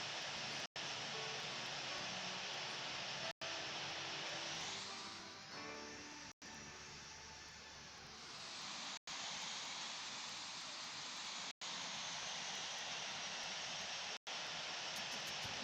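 Boeing 747 jet engines in the Infinite Flight simulator, a steady broadband roar that swells and dips midway as the airliner taxis, with brief cut-outs, no talk.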